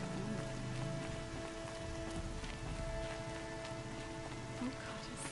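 Rain falls steadily in the Horizon Zero Dawn video game, a constant soft hiss of drops on surfaces that persists throughout, with faint voices in the background.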